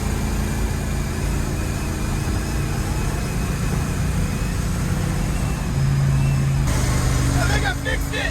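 1966 Chevrolet El Camino being driven just after a rear end swap: a steady engine drone and road rumble run the whole way, with a voice speaking over it.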